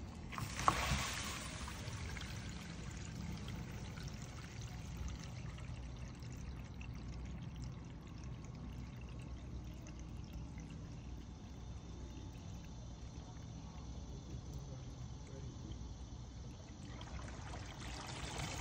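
Water pours steadily during an RV black tank flush, a continuous hollow rushing stream that holds at an even level for the whole stretch with a brief louder splash near the start.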